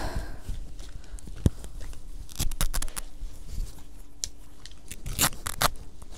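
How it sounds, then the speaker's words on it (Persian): Scissors snip during a Halloween makeup session, giving a few sharp, close clicks scattered over a faint background hiss, with no talking. "حالا قیچی"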